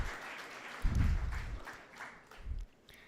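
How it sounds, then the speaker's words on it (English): An audience at an Android campus fest event claps in a short, moderately distant burst of applause that swells, eases off, and briefly picks up again before fading. "So give it a big round of applause for them, guys"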